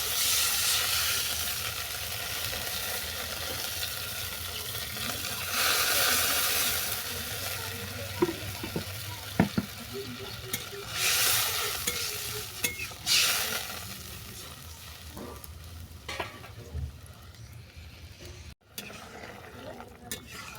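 Cucumber pieces frying in a pan for an ilish fish sour curry, a steady loud sizzle and stirring that gives way to bursts of hissing as water is poured in, with brief scrapes and clatter near the end.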